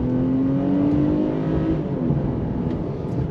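A 2023 Nissan Pathfinder Rock Creek SUV with a 9-speed automatic accelerates on a road, its engine hum climbing steadily in pitch over road and tire rumble, heard from inside the cabin.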